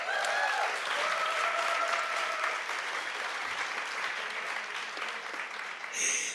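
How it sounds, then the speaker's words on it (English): An audience at a women's grassroots leadership panel breaks into a sustained round of applause, a dense, even patter of clapping that swells briefly near the end. "Shall we give them a round of applause?"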